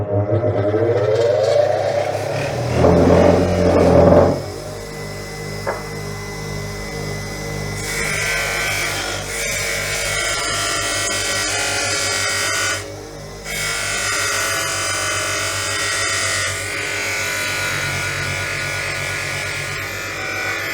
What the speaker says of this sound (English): Now we're going to put it on the buffer and buff it up.